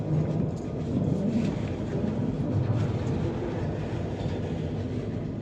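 A train rolls into Howrah station with a steady, dense rumble of wheels and carriages, fairly close and continuous without speech.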